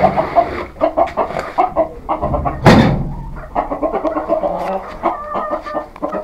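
Desi chickens on a farm cluck and squawk continuously, with a flurry of wing flapping partway through, close by and fairly loud.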